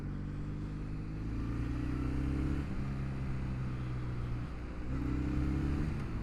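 A Kawasaki W800 motorcycle ridden around town, a steady close engine drone with gear changes and rising revs, heard from the rider's position with no talk.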